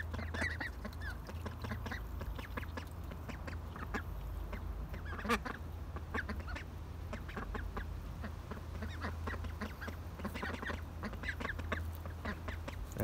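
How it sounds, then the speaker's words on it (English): Several ducks quack in irregular bursts over a steady low rumble, fairly close and continuous throughout. "Happy little ducks."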